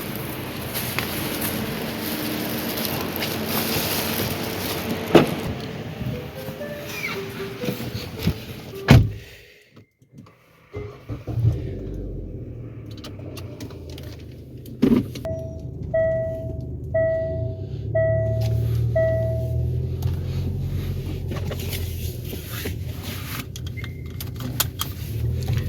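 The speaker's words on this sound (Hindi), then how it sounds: "ये रही हमारी गाड़ी, इसमें सामान रखते हैं बैग डिक्की में।" Bags loaded into the trunk of a car, with keys jangling, thumps and a door or trunk lid shutting, then a short run of electronic beeps over a steady idling engine hum.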